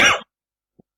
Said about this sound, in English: I'm just not feeling well because of the cough